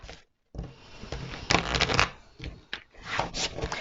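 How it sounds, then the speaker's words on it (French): Oracle cards of Archangel Michael being shuffled by hand, a close, soft riffling and rubbing in short bursts with a brief pause near the start. "je vais vous tirer une carte de l'archange Michael"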